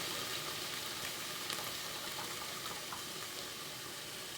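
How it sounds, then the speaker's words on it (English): A steady, close rush of liquid drains from a tin of whole tomatoes, holding an even, continuous hiss with no pauses. "I'm just going to drain the liquid off first"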